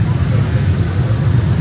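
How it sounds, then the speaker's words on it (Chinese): A dense stream of motorcycles pours past on a road outside a large factory in Vietnam, a steady, close engine rumble and roadway hum with no gaps. "这个摩托车车流"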